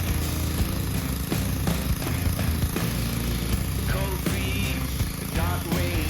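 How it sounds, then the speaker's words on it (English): A gas-engine pressure washer loaded with fine sand for sandblasting a 31-foot boat trailer at home, running as a loud, steady engine drone with a constant rumble and no pauses. "We fill our pressure washer with fine sand, a technique we saw online to make this tool do double duty."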